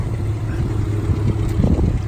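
A 1990 Honda EF hatchback project car's engine idles steadily nearby, a low, even rumble with no voices over it.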